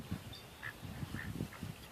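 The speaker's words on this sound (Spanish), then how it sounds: "Esos son los patos." Farm ducks quacking in a quick series of short, soft calls, fairly faint and distant, with no talk.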